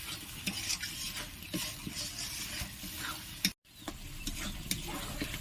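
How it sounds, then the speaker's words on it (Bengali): Spice masala for a mixed vegetable curry sautéed and stirred in a pan, a soft continuous sizzle with repeated scraping strokes, close and alone, briefly cut to silence midway. "এইভাবে মশলাটি ভালো করে কষিয়ে নেবেন।"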